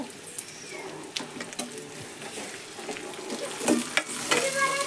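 Ingredients for a potato curry frying in a little oil in a pan, a continuous crackling sizzle with scattered spatula taps and stirring scrapes, close and growing a bit louder toward the end, no talking.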